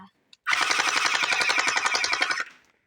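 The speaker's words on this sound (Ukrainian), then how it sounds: "пістолет, автомат, автомат. з орбізами, так?" A toy Orbeez gun fires a rapid automatic burst of about two seconds, a loud buzzing rattle of evenly spaced shots that stops abruptly.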